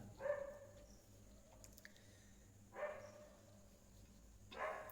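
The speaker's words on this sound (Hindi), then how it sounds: "दरवाजे पे कुत्ते भौंक रहे हैं," Three distant barks from dogs at a door, spaced a couple of seconds apart, faint over a steady low hum.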